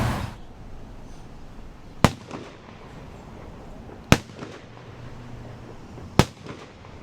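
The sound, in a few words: firing detail rifle volley at a police memorial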